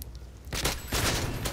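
Bursts of M16A4 rifle fire in a shooter video game, two dense rattling volleys starting after a short quiet lead-in, loud and close.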